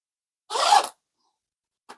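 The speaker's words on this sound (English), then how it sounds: "zip it all up" A zipper runs along a DJI Mini 2 SE drone accessory carrying case in one quick close pull, followed after a pause by a short second tug, with silence around both.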